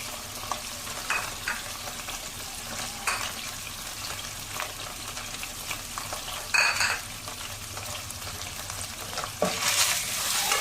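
Spices and salt for an onion egg curry fry in a pan with a continuous hissing sizzle, joined by scraping stirs and occasional light clinks of the utensil against the pan.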